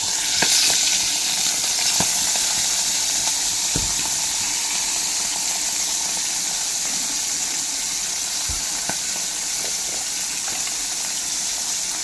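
Dried fish, including the heads, frying plain without chili powder in a pan, with a steady loud sizzle and crackle throughout and a few sharp pops and spatters breaking through.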